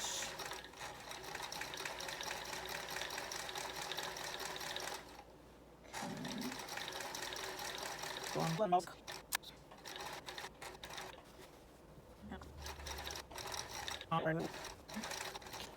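A sewing machine runs steadily, sewing an overcast stitch along the raw edge of a dress pants hem. The whirring is close and continuous, with a brief pause and some clicks and handling noises partway through.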